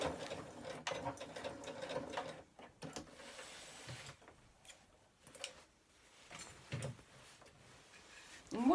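A sewing machine stitches a fleece-lined bag in uneven bursts of rapid mechanical ticking, pausing and restarting several times, close and fairly quiet.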